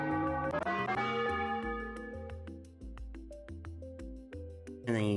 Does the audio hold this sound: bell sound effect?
yes